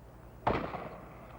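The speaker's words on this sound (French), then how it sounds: "Tiens, un coup de feu." A single gunshot from beyond a hill: one sharp, moderately loud crack with a short rumbling tail that fades over about a second, heard alone against quiet background.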